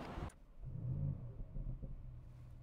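A 2024 Audi RS7 Performance pulling away, its exhaust giving a low, muffled, burbling rumble that holds steady and fairly quiet for a couple of seconds after a brief rustle at the start.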